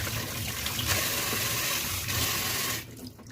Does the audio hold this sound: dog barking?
no